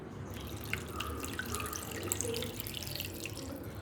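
Hot water pours and trickles into a vessel to soak a bamboo matcha whisk, a steady close splashing and dripping stream running continuously at low level.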